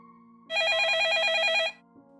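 A telephone bell rings once in a single long burst of fast, trilling electronic tone, loud and close, then cuts off into a quiet room.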